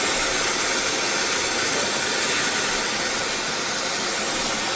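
Refrigerant hissing steadily out of a car air conditioning system, a loud, broad, continuous rushing hiss close by that barely changes over several seconds, with no voices.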